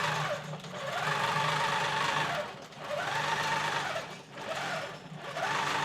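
A longarm quilting machine stitches through a quilt in rapid, buzzing runs, with brief dips between passes, close and steady.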